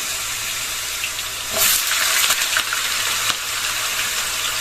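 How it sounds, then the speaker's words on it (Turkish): Potato pieces dropped into heated oil in a pan fry with a steady sizzle that swells loudly midway, then settles back to a constant crackling hiss. "Güzelce kızdırdığımız yağımıza patateslerimizi hafiften atıyoruz."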